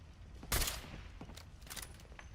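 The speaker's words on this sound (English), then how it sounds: "We appear to be under fire." Video game gunfire in a hard-difficulty wasteland shooter: one loud broadband burst near the half-second mark, followed by several quieter, more distant shots spread irregularly over the remaining two seconds, with no talk.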